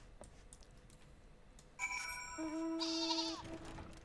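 A sheep in the Final Fantasy XIV Stormblood video game gives a loud, wavering bleat lasting a couple of seconds, rising clearly above quiet background game ambience.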